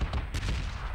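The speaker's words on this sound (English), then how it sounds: "There's gunfire." Gunfire in the battle royale shooter PUBG on Xbox One, a dense burst of loud, rapid shots with deep low thumps and crackling bursts filling the whole second, heard alone with no voices.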